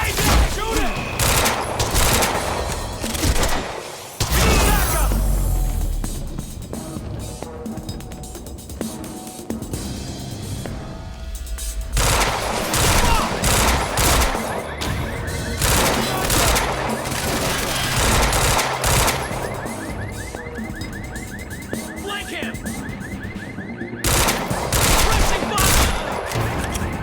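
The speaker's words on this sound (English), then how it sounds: "He's got a gun! Open fire!" Dense gunfire and automatic bursts from a firefight in the video game Quantum Break, loud and nearly continuous with brief lulls, shouted voices mixed in.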